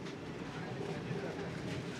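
Steady low rumble of a moving Vande Bharat Express train, a continuous rolling noise with no distinct voices.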